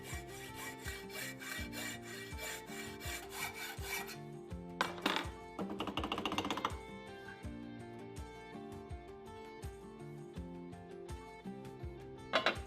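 A hacksaw cuts the sprue off a bronze casting in rhythmic back-and-forth strokes, steady at first, then coming in shorter bursts with pauses, close and clear.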